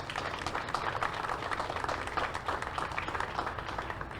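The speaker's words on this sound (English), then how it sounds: "That deserves a round of applause" Steady applause from an audience at the opening of a municipal golf course in West Palm Beach, a continuous wash of clapping at moderate level with no voices on top.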